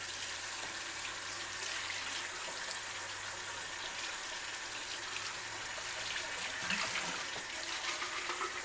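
Hot tap water runs and splashes while a chick waterer is rinsed, a soft, steady hiss of flowing water with faint clinks of handling, heard close and alone.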